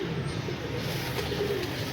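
Pigeons coo softly in a short stretch, low murmuring calls blending with background noise, fairly faint and unbroken.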